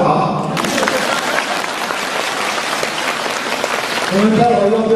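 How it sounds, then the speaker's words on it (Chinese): Audience applause at a dharma assembly talk in Melbourne, Australia: a dense, loud burst of many hands clapping that starts abruptly after a voice, holds steady, then a voice speaks over it as it continues. "鼓掌好"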